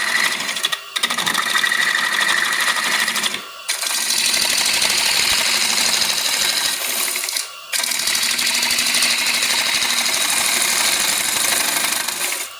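A turning tool cuts an out-of-round piece, its loud, dense, chattering scrape running continuously with three brief gaps where the cut lifts off, the bounce held down by light hand pressure, no voices.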